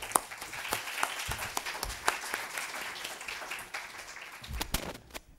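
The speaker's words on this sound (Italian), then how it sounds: "incitare con un applauso" Applause from a small audience at a talk on Giorgione's painting The Tempest, a steady patter of clapping hands that carries on for several seconds before tapering off near the end.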